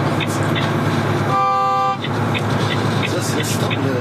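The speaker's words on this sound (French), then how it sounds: "L'avertisseur sonore vous a prévenu qu'il y avait une masse sur la droite." A truck's blind-spot lane-change warning gives a single steady electronic tone lasting about half a second over road and engine noise inside the cab, with someone talking throughout.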